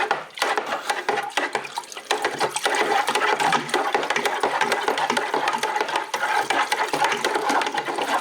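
Stick stirring a fermenting alcohol wash in a bucket to lift the sediment from the bottom, a steady churning slosh with rapid wet splashing and scraping that continues without pause throughout.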